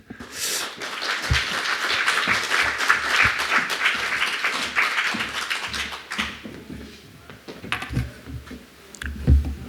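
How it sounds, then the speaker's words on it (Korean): A church congregation claps warmly in welcome as a missionary comes forward. The applause is dense and lively for several seconds, then thins out into scattered claps. "우리 이광호 선교사님 나오실 때 뜨거운 박수로 환영해 주시면 감사하겠습니다."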